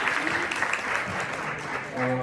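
Brief audience applause during a civil rights commemoration at Mother Bethel AME church, a steady crowd clap with a few voices and tonal sounds faintly mixed in.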